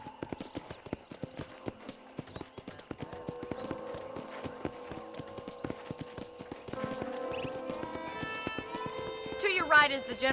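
Rhythmic hoofbeats of a horse in a video game (Red Dead Redemption) clop steadily throughout, with a voice talking over them and a brief whinny toward the end.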